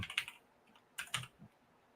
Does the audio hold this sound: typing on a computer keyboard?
yes